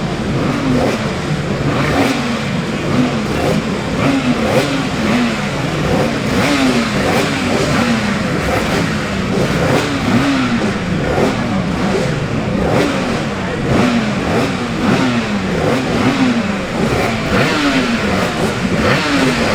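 A 250cc Yamaha racing motorcycle engine revs and idles steadily at close range for the whole stretch, loud and continuous with rhythmic throttle swells, while a faint voice sits underneath.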